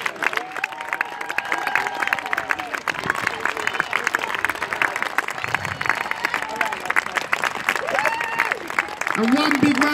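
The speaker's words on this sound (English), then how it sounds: "Here they come, big round of applause for the Green Team." Outdoor crowd applause and cheering at a school sports day race as runners come down the home straight, steady clapping throughout with an announcer talking over it.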